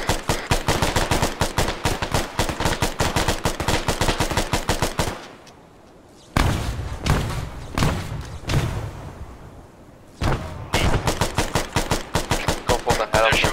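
Loud, rapid automatic gunfire from people shooting at civilians bursts in long rattling strings close by, then pauses during scattered heavier thumps and mechanical noise before resuming.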